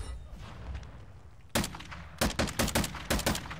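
Video game gun firing: one sharp shot, a short pause, then a quick volley of several loud, closely spaced shots, with no talk over it.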